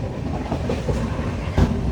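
The inside of a crowded Indian train carriage in motion: a steady rolling rumble with rhythmic clickety-clack wheel beats and a heavier clunk near the end.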